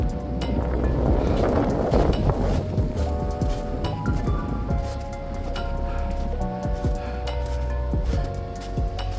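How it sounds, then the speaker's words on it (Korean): Strong wind gusts buffet the microphone on a snowy winter mountain trail of wooden deck steps on Ulleungdo's Albong, a loud, continuous roar with rumbling low noise throughout. "올라오니까 바람이 많이 부는구나"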